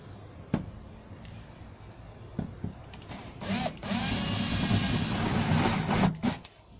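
A countersink bit drills shallow holes for small countersunk rivets during kitchen worktop work in a rented house, with brief whirring bursts early on and then a steadier, louder grinding run that stops and starts near the end, with no voices.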